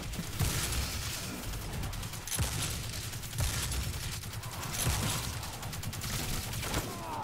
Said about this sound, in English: I'm shooting stuff that they're immune to.